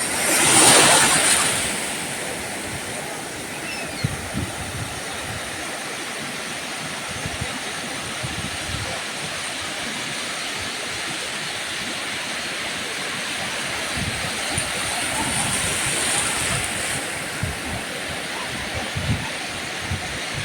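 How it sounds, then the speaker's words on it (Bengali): Sea waves roar continuously on the beach at Mandarmani, a steady, broad wash of surf with gentle swells and some wind noise. "সমুদ্রের পাড়ে এসে এখানে শুধু সমুদ্রের ঢেউয়ের গর্জনগুলোই শুধু শোনা যাবে।"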